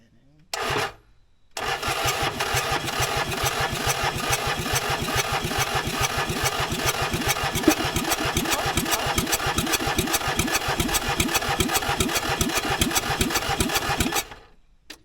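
A cheap auction mini skid loader with a faulty throttle cable gives a short cranking burst, then its engine fires and idles in a loud, steady, rapid chugging close by until it cuts off near the end.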